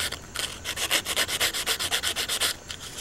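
Sandpaper is rubbed by hand across the blade of a Schrade Scrimshaw pocket knife during a restoration, in a steady train of about fifteen quick, even back-and-forth strokes, close and alone.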